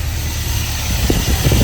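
A car engine fitted with a Thermoquad carburetor, idling after its first start in about twenty years, a loud steady low rumble, close up, with no talking.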